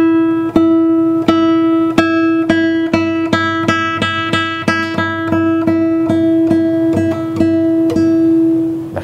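A J.Godoy J3 acoustic guitar is picked with a soft tone, a steady run of plucked notes over a held low drone, close and clear with no talking.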